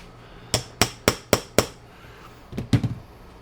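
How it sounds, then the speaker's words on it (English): Five evenly spaced light hammer taps drive a screw down into wood for a kneeler, followed by a few softer, quicker knocks, close and clear. "I'm going to tap that down just lightly into it so it stays in place."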